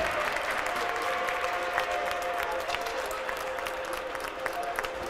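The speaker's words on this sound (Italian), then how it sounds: "applausi scroscianti del Quanta Club" Steady applause from spectators in a football stadium during a Milano vs Cittadella match, a continuous wash of clapping at moderate distance with no clear break.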